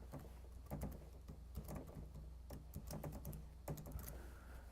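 Keys tapping on a Macintosh computer keyboard in quick, uneven bursts of clicks, fairly close and quiet, with no talking.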